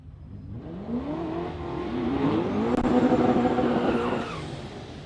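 A manual-shift V8 drag racing car at Warwick Dragway revs hard and climbs through rising engine pitch, loud and close, building to a peak before easing off at the end.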